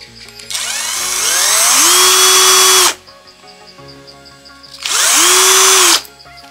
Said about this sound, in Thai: เริ่มจากเจาะรูฝาก่อนเลยนะครับผม